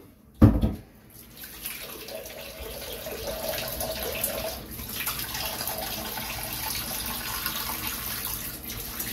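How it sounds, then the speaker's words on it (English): A bathroom sink draining water after a shave, opening with a short sharp knock and then a steady soft gurgling rush that continues throughout, no talking. "I'm gonna go ahead and drain the sink."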